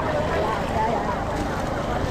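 A boat's motor hums on open water in the Philippines after Typhoon Kristine, with wind buffeting the microphone, a steady low drone throughout.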